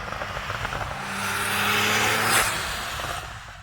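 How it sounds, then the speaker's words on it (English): A Porsche roadster with a turbocharged engine accelerates hard, its note rising and swelling over a couple of seconds to a loud peak, then easing off as it fades slightly. "When you step on the gas, it really takes off."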